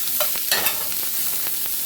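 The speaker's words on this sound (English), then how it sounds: "I'm just going to stick here and stir these around and watch them cook and just keep stirring it so they don't burn." Vegetables sizzle and fry in a pan while being stirred, a steady loud hiss with scraping stir strokes throughout and no talking.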